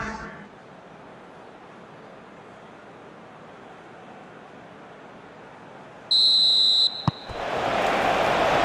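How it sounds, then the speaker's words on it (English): A referee's whistle in the football video game eFootball PES 21, a single loud steady tone lasting under a second, then a sharp click and a swell of crowd noise after a quiet stretch of low background hum. "There's the whistle."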